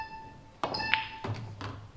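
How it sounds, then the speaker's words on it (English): Snooker balls in a professional match: a sharp tap of cue ball cannoning into a red, followed by a couple of softer knocks, with faint hall ambience. "he's going to cannon naturally into that red,"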